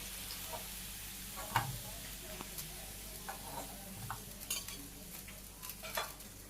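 Potatoes frying and being stirred in a pan during village home cooking, with a steady sizzle and occasional scraping and clinking of a utensil against the pan, close by with no talk.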